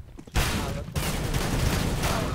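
Dense gunfire in the video game CS:GO, loud and sustained bursts of rapid shots filling the scene after a brief quieter moment, with no voices.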